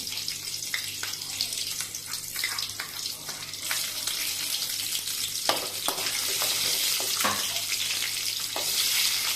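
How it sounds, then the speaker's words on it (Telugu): Steady sizzling of garlic and tempering spices frying in hot oil for gongura mutton, with scattered clinks and scrapes of stirring throughout; no voices. "ఇలా ఆయిల్ వేడైన తర్వాత వెల్లుల్లి పోపు దినుసులు వేసుకోవాలి"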